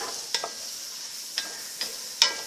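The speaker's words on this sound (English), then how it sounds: "we just added the mushrooms. And we're going to saute these for a minute." Mushrooms sauteing in a pan for chili give a faint, steady sizzle, broken by four sharp scrapes or taps of a stirring utensil spaced unevenly through the moment.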